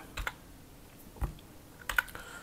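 A handful of sparse keystrokes on a computer keyboard while a short chart setting is entered, with three small clusters of clicks spread over a quiet background and no talk.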